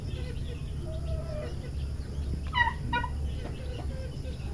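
Turkeys on a small farm gobbling, a couple of short rattling bursts near the middle over a low steady background hum, with other birds calling faintly around them.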